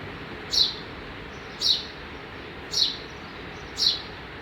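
Four short, bright bird chirps of a sparrow at roughly one-second intervals, each standing out clearly over a steady background hiss, no talking.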